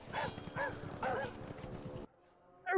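Several dogs bark repeatedly inside a virtual art museum room in a VR game, loud rhythmic barks mixed with scuffling and other game noise, cutting to near silence before a sharp sound returns at the end.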